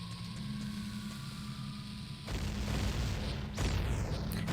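A chain reaction of bombs detonating in a ring in Ocarina of Time, heard as a steady rumbling bed that jumps into two louder, dense bursts of explosive noise, close and sustained without speech.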